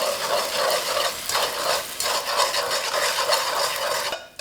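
Beaten egg set in hot oil in a wok and quickly stirred apart into curds, a steady close sizzle with scraping stir strokes throughout.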